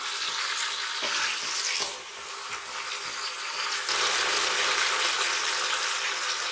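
Onions fry in a pan in a dense, steady sizzle that stays loud and close, easing briefly and then swelling again, with faint stirring underneath.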